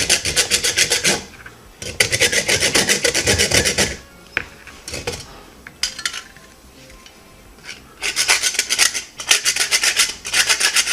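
A hand rasp files a Benebone wishbone chew toy in bursts of harsh, loud scraping strokes with short pauses between, close and alone with no talking.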